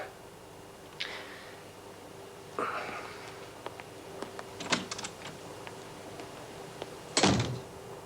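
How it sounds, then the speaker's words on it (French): A door bangs shut with a single sharp, fairly close slam near the end, after a few softer thuds and clicks in a quiet room. "Une porte qui claquait?"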